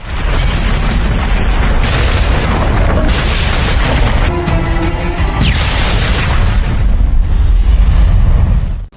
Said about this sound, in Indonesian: tepat sebelum ledakan itu terjadi